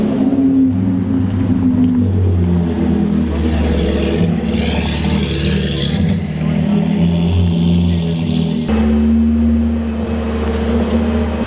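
Ferrari exotic cars pass by on the road, with loud engine roar and revving that swells and fades as they go by, rumbling continuously throughout while people talk faintly in the background.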